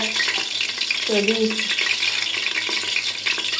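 Oil sizzles and crackles steadily in a pressure cooker with two cardamom pods, cinnamon and bay leaf, a constant bright hiss with a brief lower clatter near the start.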